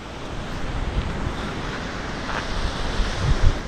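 Sea waves roll onto Paysawan Beach in Bagac, Bataan, a steady broadband wash of surf with wind buffeting the microphone and a slightly stronger surge near the end.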